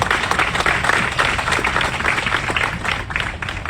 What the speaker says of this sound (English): we wave our hand or give our applause for Trae the Truth